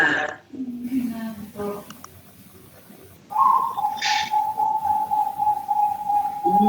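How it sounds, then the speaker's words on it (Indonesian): Zebra dove (perkutut) giving a sustained, steady cooing call at moderate distance, following a few seconds of people talking indoors. "Perkutut"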